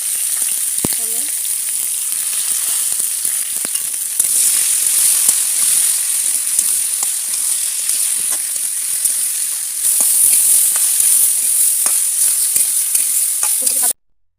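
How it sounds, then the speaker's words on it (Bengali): Cauliflower florets frying in oil in a pan for a Bengali tengra fish curry with potato and kumro bori, giving a steady loud sizzle and crackle that runs nearly unbroken for about fourteen seconds before cutting off. "ফুলকপি ভেজে নেব।"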